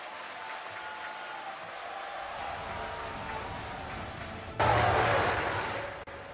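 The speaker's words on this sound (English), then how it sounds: "May I suggest a round of applause for His Excellency President Xi Jinping." A keynote address at the 2017 APEC business gathering in Da Nang, Vietnam: someone speaks over a quiet hall, then the audience breaks into loud, sustained applause that slowly fades.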